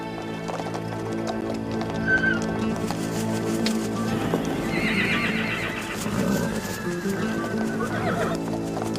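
Wild mustangs neigh and whinny while hooves clop and shuffle nearby at a cliff edge, a steady busy mix of animal calls and movement.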